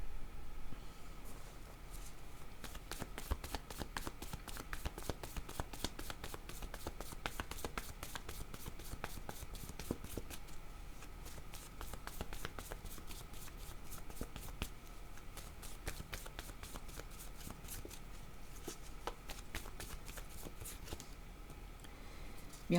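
Tarot cards being shuffled and handled in a steady, rapid riffle of soft flicks and taps that runs throughout, fairly close and alone with no talking.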